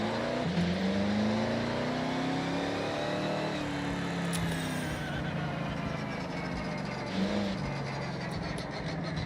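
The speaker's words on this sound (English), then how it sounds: "Doesn't sound like a naturally aspirated engine to me." A car engine in a racing video game revs and accelerates, its tone climbing through gear changes and dipping before climbing again, loud and steady throughout without any talking.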